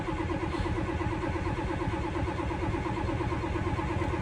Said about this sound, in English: see if that'll help get the truck fired up